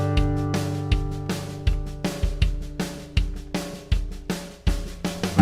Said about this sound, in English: what I want to do is just play it along with a little train beat backing track.